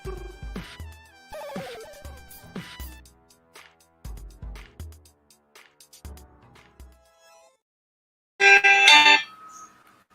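A mobile phone's melodic ringtone plays during a video game stream: short tone phrases repeat with gaps, then a louder, brighter burst of tones sounds near the end. No one speaks.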